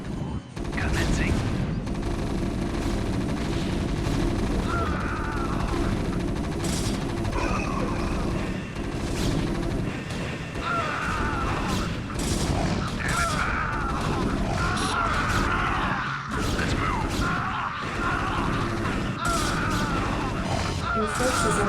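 Marines fire rifles in a chaotic battle in the video game StarCraft: Brood War, facing a Protoss carrier and Mutalisks. Dense rapid gunfire, mechanical clatter and impacts keep up throughout, loud and layered.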